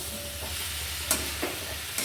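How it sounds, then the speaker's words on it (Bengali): Fried potatoes and drumsticks are stirred with spices in a hot pan, a steady close sizzle with scraping stir strokes throughout a short stretch. "দিয়ে দিচ্ছি ভেজে রাখা আলু আর ডাঁটা। মশলার সাথে বেশ ভালো করে নাড়াচাড়া করে কয়েক সেকেন্ড একটু কষে নেব।"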